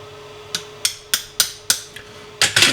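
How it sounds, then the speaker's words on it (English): A small hammer taps a punch against the accelerator pump linkage of a Rochester QuadraJet carburettor: about eight sharp metallic strikes at irregular intervals, close and clear, with the last few coming in quick succession. "It's done quite simply with the right size punch, a little baby hammer,"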